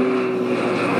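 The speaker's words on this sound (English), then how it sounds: "An airplane." An airplane sound effect played from a Google Home smart speaker, a steady droning engine roar with a low hum that holds evenly throughout the short moment, with no talk over it.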